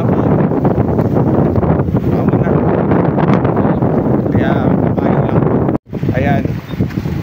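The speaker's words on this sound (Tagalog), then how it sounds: "Medyo malakas po yung hangin." Strong outdoor wind buffets the microphone with loud, continuous rumbling roar, briefly dropping out before gusting again, while people walk and talk.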